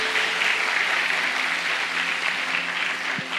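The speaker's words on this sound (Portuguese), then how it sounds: "Aplauda o Senhor." Church congregation applauding during a worship service, continuous dense clapping from many people filling the room at a steady level throughout.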